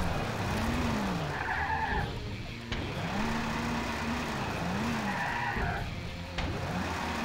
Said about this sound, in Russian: И опять тараним его.